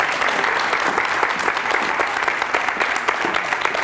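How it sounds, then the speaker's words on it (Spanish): A crowd claps steadily and enthusiastically, dense applause filling the whole stretch without letting up. "Un aplauso enorme para ella."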